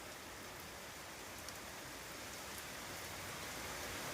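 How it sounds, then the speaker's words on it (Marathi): Heavy monsoon rain with wind falls in Itkur village, Kalamb taluka, Maharashtra, a constant soft broadband patter heard from a slight distance, unbroken and without talk. "अगदी जोरदार पाऊस या ठिकाणी चालू आहे"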